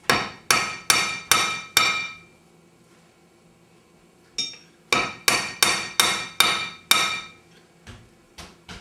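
A hammer strikes a lead musket ball held in a die, a run of five sharp metallic whacks, then a pause, a single blow, and another rapid run of blows that trail off into lighter taps, close and loud with no talk.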